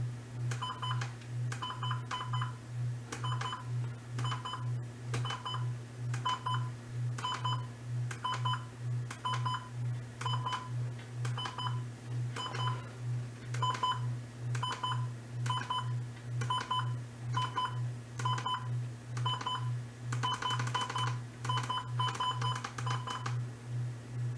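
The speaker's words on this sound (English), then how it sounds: "here's the alarm on the WR-120, or what it kind of sounds like" A Midland WR-120 weather radio alarm beeps in a steady repeating pattern of short electronic tones over a constant low hum, continuing for the whole stretch.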